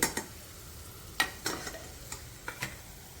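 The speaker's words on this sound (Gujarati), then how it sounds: "આ લસણને મિત્રો તમારે ધીમા તાપે તળવાનું છે" Peeled garlic cloves fry gently in oil over low heat, a faint soft sizzle broken by a handful of sharp, spaced clicks and scrapes from stirring in the pan.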